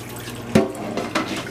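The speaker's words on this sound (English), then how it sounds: "And then you're going to drain all the water off." Water drains off a pot of boiled eggs in two short, close splashing pours over a faint steady background hiss.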